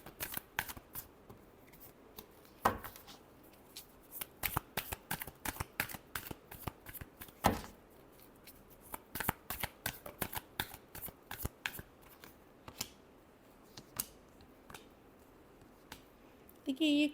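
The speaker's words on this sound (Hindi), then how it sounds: "Last shuffle." Tarot cards are riffled and shuffled up close in quick, rapid bursts of crisp flicking, with brief pauses between runs of shuffling.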